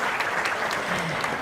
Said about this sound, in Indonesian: Tepuk tangan untuk Pak Dwi Sudarto